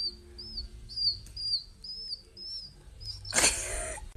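A person imitates a baby bird with a run of thin, high chirping peeps, repeated several times in quick succession, followed by a brief breathy burst at the end.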